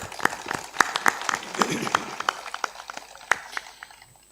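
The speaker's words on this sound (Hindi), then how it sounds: "ताली बजा दो उनके लिए" Audience clapping at a religious gathering, scattered and uneven with sharp individual claps standing out, loud at first and thinning toward the end.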